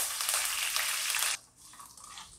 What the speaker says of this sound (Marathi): खळखळ असा आवाज आला पाहिजे पानांचा